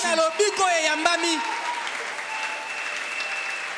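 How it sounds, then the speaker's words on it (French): A church crowd at a prayer evening breaks into steady, sustained applause for healing received, a dense wash of clapping that starts with a voice briefly over it and then carries on alone at an even level. "Quelqu'un peut acclamer très bien pour la guérison. Pour la guérison reçue."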